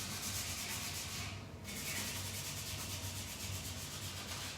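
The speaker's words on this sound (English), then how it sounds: "So just tie a little bow for the front." Red and white ribbon being handled and tied into a small bow for a gift card album, a steady close rustling and rubbing that continues alone for several seconds.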